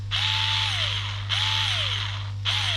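Rolson cordless screwdriver with an on/off-only trigger whirring at full speed in three steady bursts, its motor tone sweeping briefly at each start, loud and close with no voices.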